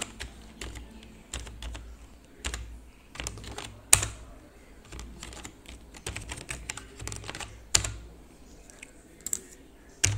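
Computer keyboard typing HTML code, with irregular bursts of light, close key clicks and scattered louder strokes against a quiet room and no talking.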